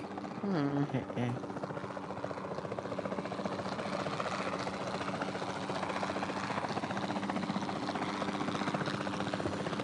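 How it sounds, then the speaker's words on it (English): Capture team helicopter in a dinosaur video game, a steady rotor and engine drone running continuously at moderate level with a brief rising tone near the start. "Then the sensible thing is to take a capture team helicopter."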